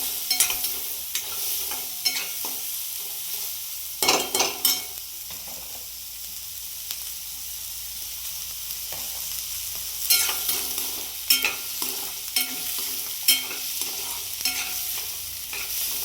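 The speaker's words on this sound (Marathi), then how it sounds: "तर हे बघा आता एकदम असं फ्राय होत आहे." Upma ingredients being stirred and fried in a pan: a steady soft sizzle runs throughout with repeated scraping strokes of a spoon, close and moderately loud, with no talking.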